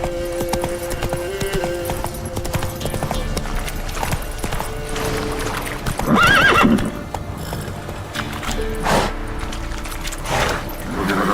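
A horse in The Witcher 3 trots with steady clip-clopping hooves, then lets out a loud whinny partway through, all amid game ambience and background music with no voice over it.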